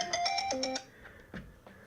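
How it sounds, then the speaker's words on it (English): A phone alarm rings with a short, bright melodic tone sequence of repeated chiming notes that then cuts off, followed by faint rustling and a soft thump. "So that's my alarm. Even my phone's excited."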